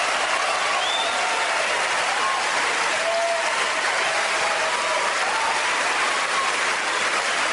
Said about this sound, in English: And the applause goes on for a long period of time.